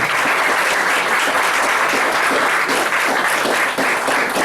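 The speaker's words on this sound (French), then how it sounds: "À nouveau, je vous demande de faire pleuvoir vos applaudissements de tonnerre" Pupils applaud their teachers at a school Teachers' Day celebration, a loud, dense wash of clapping from a large crowd that carries on steadily throughout without a break.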